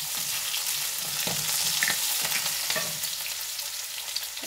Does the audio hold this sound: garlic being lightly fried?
yes